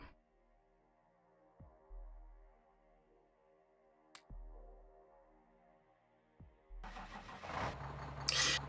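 Demolition truck engine starting in the Factorio video game: a few quiet thumps and a starting whine over a low hum, then the engine catches and grows into a louder running rumble near the end.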